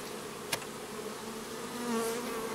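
Honeybees of the Carpatica strain hum in a steady low drone around an opened Miniplus hive during a spring inspection, close and continuous, with a single sharp click early on and no talking.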